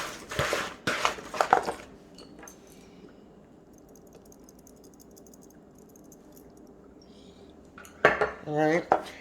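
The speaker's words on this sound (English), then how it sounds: "we're going to just stir this up a little bit" Potatoes and Brussels sprouts being stirred with oil and seasoning, quiet clinking and scraping of utensils against a bowl, with louder clattering bursts at the start and end.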